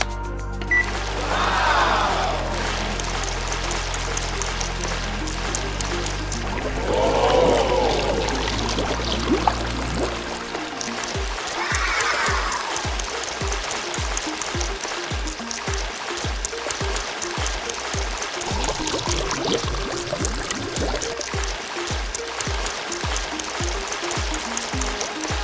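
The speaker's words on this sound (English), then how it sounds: "Let's see if this pump can move all the water into the empty bowl." LEGO water pump pouring water into an empty bowl, a steady trickle and stream running through the clip with soft mechanical pulsing, fairly close, no talk.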